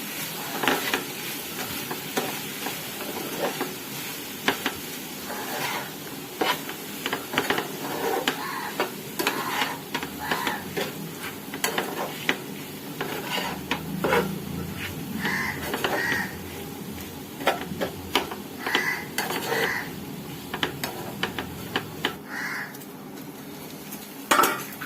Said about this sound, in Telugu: మొత్తం నీట్గా మిక్స్ చేసుకుందాం.